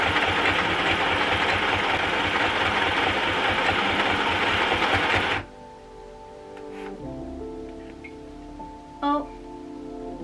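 A home sewing machine stitches fabric in a fast, steady mechanical whir for about five seconds, then stops abruptly, leaving quiet handling noises and a brief rustle.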